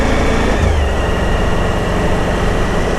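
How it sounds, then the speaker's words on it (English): Suzuki GSX-R motorcycle engine running with a loud, steady exhaust drone, constant and close throughout with no pauses. "Going on the GSXR there, that noise has got to get on your nerves after a whole day"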